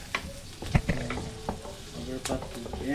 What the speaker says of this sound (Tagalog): gigisa na tayo